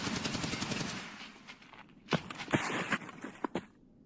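Video game gunfire as one player shoots another: a rapid automatic burst of about a second, a brief lull, then four or five sharp separate shots spaced irregularly, close and loud, with no talking over it.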